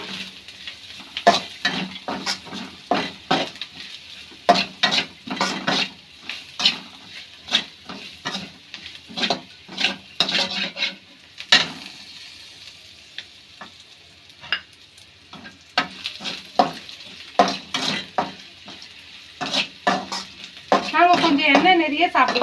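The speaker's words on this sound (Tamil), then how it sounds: "நல்லா வதக்குங்க" Garlic and turmeric sautéing in oil in a pan for pasta, with a busy close sizzle broken by repeated sharp stirring and spatula scrapes against the pan, louder near the end.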